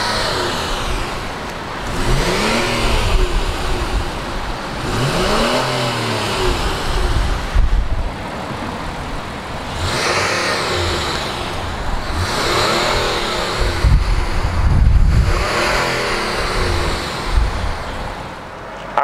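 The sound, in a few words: 2019 Honda Passport and Pilot SUV engines starting up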